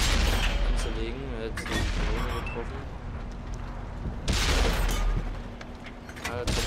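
Tank cannon fire and a shell bouncing off armor in the World of Tanks video game, several booming shots and metallic impacts over rumbling engine noise, with someone talking throughout.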